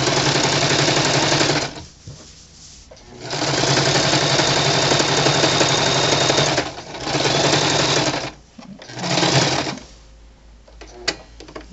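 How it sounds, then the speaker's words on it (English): A sewing machine runs a long basting stitch along a pillowcase in three loud, steady bursts, with short quiet pauses between runs and no talking. "we're going to run a basting stitch"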